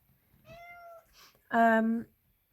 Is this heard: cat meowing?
yes